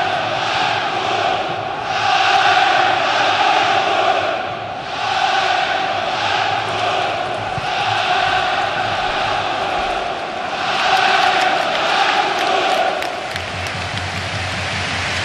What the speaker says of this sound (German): Wir hören diese fantastische Fankulisse.